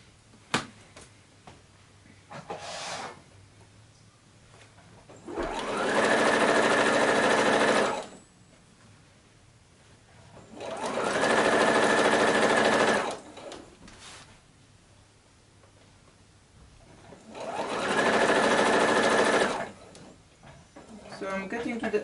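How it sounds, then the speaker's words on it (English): A sewing machine top-stitches near the edge of a quilted Christmas tree skirt in three distinct, loud bursts of rapid whirring, with short quiet gaps and soft handling noises between them. "I will just top stitch close to the edge."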